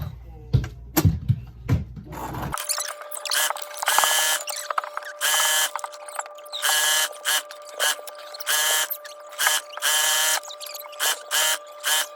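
Sewing machine at its tightest tension running long, loose basting stitches on a scrap dress, heard as a series of close, loud mechanical whirring bursts separated by short pauses, after a brief stretch of low rumbling handling at the start.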